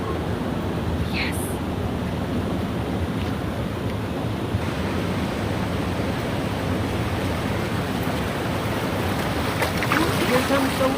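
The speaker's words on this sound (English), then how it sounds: "Here comes the water." Ocean waves washing into tide pools at La Jolla, California, at midday low tide, a constant close rushing wash of surf with some wind noise.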